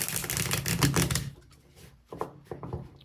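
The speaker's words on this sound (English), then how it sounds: "Feel free to fast forward through the shuffling if you want." A tarot deck is shuffled with a quick riffling, flicking patter for about a second, then a few softer scattered taps and card handling noises follow.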